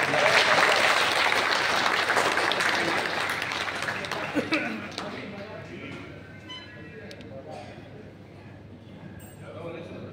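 Applause from the audience at a Hindi comic poetry gathering after a song, a burst of clapping that gradually thins and fades, with a voice speaking as it dies away.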